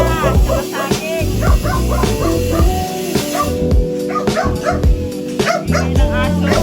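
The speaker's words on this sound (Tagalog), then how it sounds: "Yan ang aso." A dog barks and yips again and again, loud and close, with whimpering mixed in, while people talk in the background.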